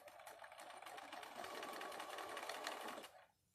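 Sewing machine running fast and steadily as it stitches a straight seam through fabric, a close, soft, rapid whir that winds down at the end.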